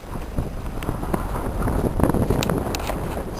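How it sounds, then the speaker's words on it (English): Gusty wind on a beach at the Dead Sea, a steady broadband rush buffeting the microphone with slight swells in strength and no voices. "There's a bit of a wind though"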